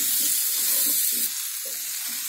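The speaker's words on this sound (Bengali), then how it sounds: "এবার এটা আমি মিডিয়াম ফ্লেমে রেখেছি, রেখে এটা ভালোভাবে নাড়াচাড়া করে 2 মিনিট একটু ভেজে নিতে হবে।" Pumpkin and potato curry stir-fries in a pan over a medium flame: a constant sizzle with soft, irregular scraping and stirring pulses. The sizzle drops slightly in level partway through, and no one speaks.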